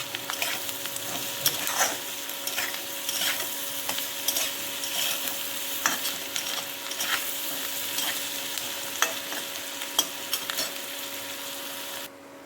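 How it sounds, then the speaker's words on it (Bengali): Onion with a pinch of salt fries in a pan, a steady close sizzle with frequent scraping stirs of a utensil against the metal for several seconds, no voices. "পেঁয়াজটা ভাজার সময় একটু নুন দিয়ে দেব, তাহলে ভালো নরম হয়ে যাবে পেঁয়াজটা"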